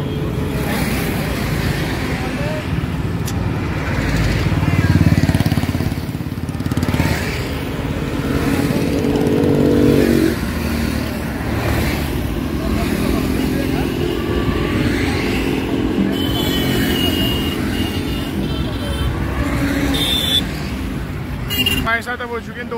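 Motorbikes ride along a road during a Kanwar pilgrimage trip to Haridwar, with steady engine drone and traffic noise throughout. Loud, close rushing passes swell and fade, and people talk over the riding.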